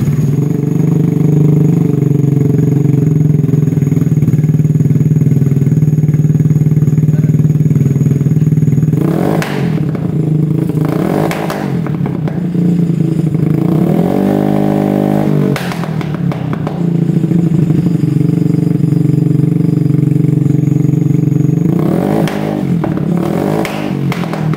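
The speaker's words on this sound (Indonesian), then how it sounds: "Jadi buat kalian yang penasaran suaranya, ini dia." Modified Vespa scooter with a 66 engine and aftermarket exhaust idling loudly and steadily up close, with several brief revs and throttle blips breaking the low droning rumble.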